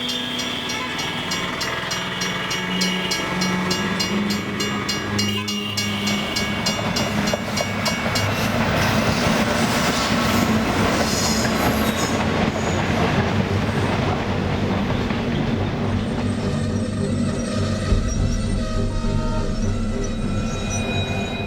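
A passenger train rolls along the rails near a station, with loud continuous rumble, rhythmic wheel clatter and a sustained metallic squeal, no voices.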